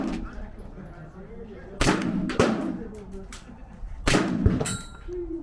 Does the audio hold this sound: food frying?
no